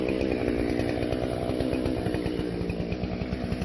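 A chainsaw cutting firewood for maple syrup cooking runs loud and close with a steady, rapidly pulsing engine rattle, and no talking over it.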